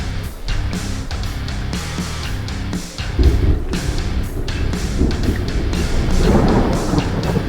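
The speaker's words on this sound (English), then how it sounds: "Thunder, like you've seen it a million times." Thunder in the trucking game American Truck Simulator: a loud, sustained rolling rumble with broad crackling texture, swelling in intensity toward the end, heard alone without voices.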